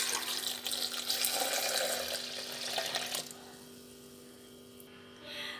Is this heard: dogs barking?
no